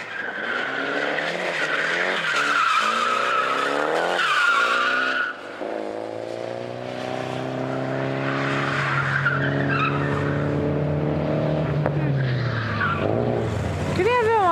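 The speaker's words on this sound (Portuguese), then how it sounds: "Esquentando os carros." Drift cars at Fuji Speedway in Japan squeal their tires and rev their engines in long sliding passes, loud and continuous, with engine tones rising and falling, and voices chatter underneath.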